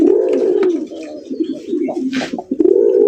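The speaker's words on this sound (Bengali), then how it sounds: "আজকে বাঘ বাকম ডাকটা শুনলাম ভাই" Pigeons at a farm cooing close by, with repeated low throaty coos rising and falling, a short rustle or flutter midway, and no talk over them.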